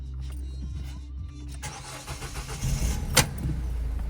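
A Citroen C4 1.6 HDi engine cranks over after a quiet idle-off pause, catches and settles into a steady, close diesel idle, with a sharp click partway through the running.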